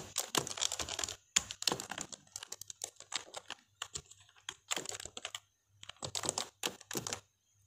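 Rapid clattering keystrokes on a computer keyboard while text is typed into an Excel spreadsheet, coming in close, busy bursts broken by short pauses.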